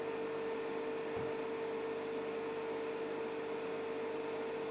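A Fieldpiece refrigerant recovery machine runs its self-purge cycle, a steady, even mechanical hum with a constant tone, close and unchanging throughout with no talking.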